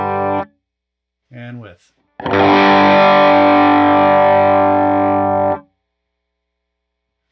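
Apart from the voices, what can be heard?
electric guitar through Heir Apparent overdrive pedal on HX Stomp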